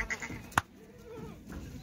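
Kathiawadi goats bought as milk goats for racing bullocks bleat faintly on a farm. There are a few short calls over rustling and low background noise, with one sharp click.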